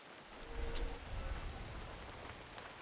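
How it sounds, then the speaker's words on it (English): Soft rain falling in the video game Assassin's Creed Shadows, a faint, steady broadband patter and hiss with a slightly fuller swell near the start, no voices. "the onset of rain sounds so nice"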